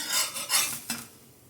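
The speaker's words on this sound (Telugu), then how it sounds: "ఇప్పుడు ఈ దోశను కూడా తీసేసుకుందాం." A spatula scrapes a healthy dosa off the hot pan in three quick, close scrapes over a faint sizzle, then fades to quiet.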